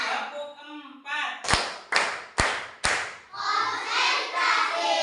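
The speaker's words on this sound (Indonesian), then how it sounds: "Tepuk 4." Children in a classroom clapping together in a counting clap routine, four crisp, evenly spaced claps in the middle, framed by group chanting before and children's voices afterward.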